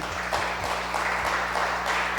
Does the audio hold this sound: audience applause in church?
yes